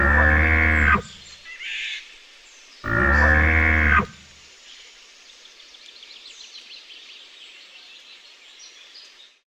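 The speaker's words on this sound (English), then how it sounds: "Bull elk." A bull elk calls in the forest: two loud, harmonic bugling blasts about a second each, separated by a short higher squeal, followed by faint birdsong and quiet forest ambience.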